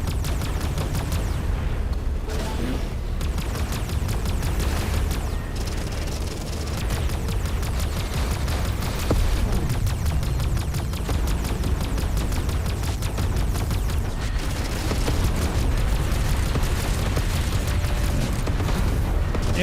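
Rocket explosions in the space shooter game Everspace 2, with dense, continuous rumbling blasts and booms layered over a steady roar of game action, loud and unbroken throughout.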